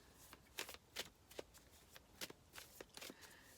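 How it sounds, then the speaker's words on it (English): Tarot cards are shuffled by hand in quiet, soft riffling bursts that repeat in an irregular rhythm, close and faint with no talk. "as I'm shuffling the cards"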